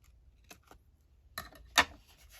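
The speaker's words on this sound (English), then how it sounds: "I'm just going to try and snip that, trim that down" Scissors snip and trim the overhanging edge of a paper pocket being folded into an envelope, giving a few quiet cuts followed by one sharper, louder snip near the end.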